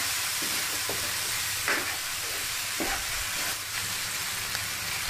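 Salted squid stir-fried in a pan with sugar and seasoning, giving a close, continuous sizzle broken by a few scraping stirs.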